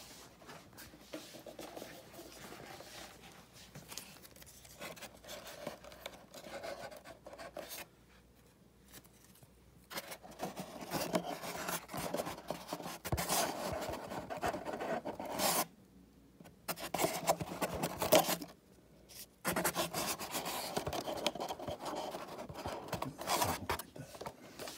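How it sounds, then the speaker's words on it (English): A pen traces a line along a taped-down template on a Freewing Zeus model jet being built for a turbine conversion, making quiet, intermittent scratchy strokes with short pauses between them. "now you got to draw a line next to that template"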